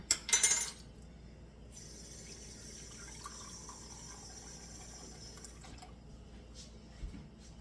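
Water is poured into a pot while making apple rhubarb chutney. A brief clatter comes first, then a steady, soft rushing pour that stops after a few seconds, followed by a faint drip.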